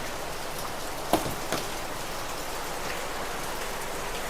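Heavy rain pours steadily at a goat farm, a dense even hiss, with a couple of brief louder knocks near the start.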